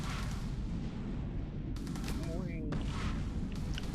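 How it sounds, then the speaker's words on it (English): Missile launchers in EVE Online keep up a steady, dense barrage of firing. Sharper bursts and a brief warbling electronic tone are layered on top, and a voice can be heard under the weapons. "Yes, I can fire missiles too."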